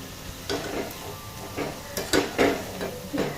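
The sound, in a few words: coriander fritters frying, stirred with a spatula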